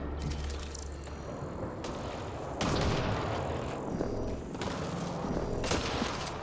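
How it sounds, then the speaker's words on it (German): Sharp thunderclaps from lightning strikes in Mass Effect Andromeda, cracking like gunshots over a steady game backdrop, with several loud broadband bursts spread across the stretch. "diese beschissenen Blitze hören sich an wie..."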